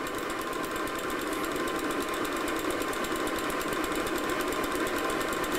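A rattly 750 motorcycle engine runs at a steady idle, close and loud, with a continuous buzzing, clattering drone and no talk.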